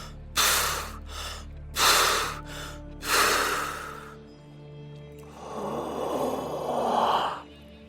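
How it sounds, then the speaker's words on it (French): Passive exhalations in a breathing exercise, belly pushed out at normal speed: three sharp, close breath bursts through the nose and mouth, then a longer, softer breathy exhale, with no talking. "Maintenant, nous allons faire expiration passive, le ventre poussé, mais vitesse normale."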